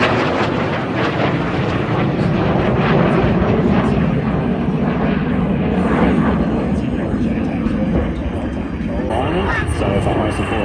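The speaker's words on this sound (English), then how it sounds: "F-35A Lightning IIs." F-35A Lightning II jet aircraft at an airshow, a loud continuous roar of engine noise filling the whole stretch, steady and close with slight swells, with crowd chatter mixed in underneath.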